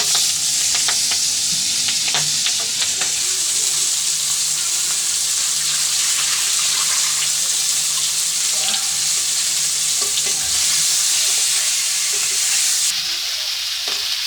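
Singi fish sizzling and frying in a pan with potatoes and bitter gourd, stirred with occasional clinks against the pan under a steady hiss of hot oil.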